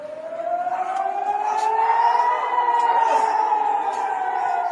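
An air raid siren wails steadily at a border area under drone attack, its rising and falling howl sustained and fairly loud throughout, with faint distant tones layered beneath.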